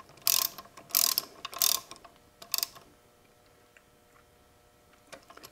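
Shifter on a rebuilt Ford Toploader 4-speed transmission being worked by hand during final assembly, giving four sharp mechanical clicks and clunks close by, then fainter scattered ticks, with no talking.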